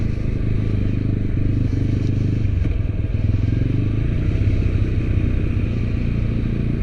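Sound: TVS Apache RTR 200 motorcycle engine noise while riding

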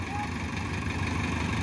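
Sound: old Mahindra Arjun 555 tractor engine running under full load

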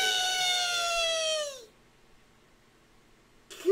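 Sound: cat meowing

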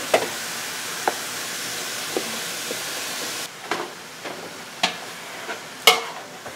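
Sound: chicken added to a hot pot, sizzling

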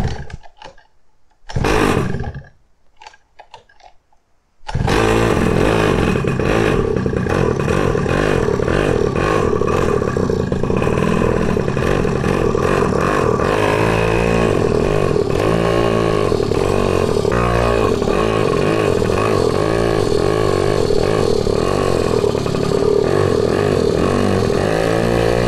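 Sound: pocket bike engine revving while being ridden

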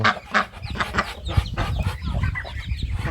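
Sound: turkey calls

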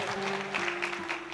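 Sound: audience applause at seminar

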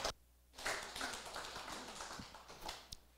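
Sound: audience applause welcoming speaker

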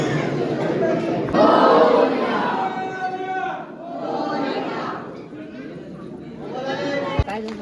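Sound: crowd chatter at Ashtavinayak temple

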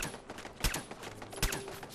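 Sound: turret gunfire in the video game Fallout 4

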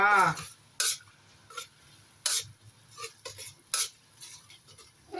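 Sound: stir-frying pork belly and morning glory with shrimp paste

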